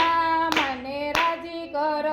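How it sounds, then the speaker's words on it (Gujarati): Two-handed clapping punctuates a sung Gujarati devotional song for Dashama. Sharp, separate claps land roughly every half second to second beneath the sustained melodic voice and accompaniment. "બે હાથે તાળી પાડો રે"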